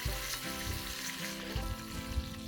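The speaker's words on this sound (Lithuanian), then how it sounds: "Tada dedame šonkaulius, pasūdome aštria druska ir kepame kol apskrus." Pork ribs frying in lard with garlic, salted, giving a continuous close sizzle and crackle with a few low knocks, no voices.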